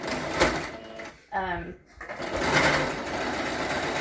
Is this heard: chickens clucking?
no